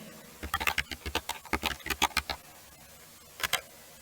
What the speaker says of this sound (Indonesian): saya akan mengetik perintah hostname